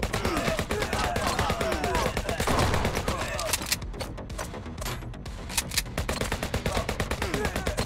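Sustained machine gun fire from a boss in HyperParasite, a dense, continuous stream of rapid shots that thins into distinct pulsing bursts toward the end, loud and close throughout.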